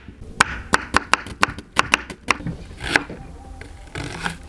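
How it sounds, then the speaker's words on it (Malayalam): A knife chops onion on a cutting board in crisp, fairly regular knocks, about a dozen close taps in quick succession that thin out toward the end. "ആദ്യം നമ്മുടെ സവാള കൂട്ടിനെ ഒന്ന് കൊത്തി അറിഞ്ഞെടുക്കണം നമുക്ക്"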